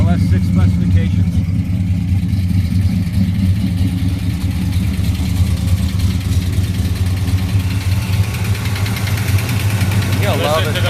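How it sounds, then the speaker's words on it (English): A 1966 Chevelle SS 396 V8 with a solid lifter camshaft idling, a loud, steady, lumpy rumble close by throughout with no break. "You can hear that camshaft really open, huh?"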